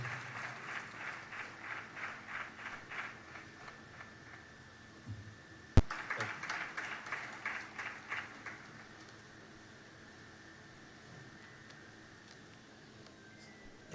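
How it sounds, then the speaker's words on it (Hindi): A church congregation at the 100th IPC Kumbanad convention claps to welcome a preacher, a rhythmic unison clapping, fairly faint and distant in a large hall, with one sharp knock midway before the clapping fades away. "आइए तालियां बजाकर परमेश्वर के दास का स्वागत करें।"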